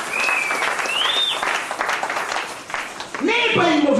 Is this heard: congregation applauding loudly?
yes